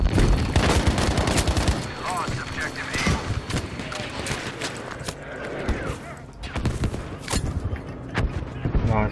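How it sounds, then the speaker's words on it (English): Artillery and gunfire in Battlefield V: rapid bursts of shots and heavy impacts pound through a busy battle, loud and dense at first, easing briefly in the middle, then building again, with a voice speaking over it. "Artillery barrage on station."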